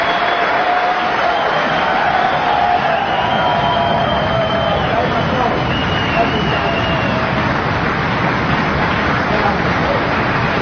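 A packed hotel crowd applauds a snooker trick shot, a dense sustained wash of clapping and cheering that fills the room steadily, with a commentator talking over it.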